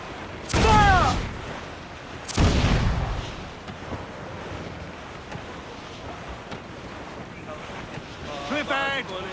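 Wind and surf of a sea squall in Assassin's Creed IV Black Flag, a sailing-ship game: low rushing wind and wave wash with two loud crashing bursts early on, and game voices in the background near the end.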